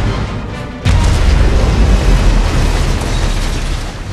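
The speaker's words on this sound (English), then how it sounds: "Nuclear weapon launched." A nuclear weapon detonates in the strategy video game Command and Conquer Rivals, a sudden loud boom after a brief lull that swells into a sustained, roaring rumble.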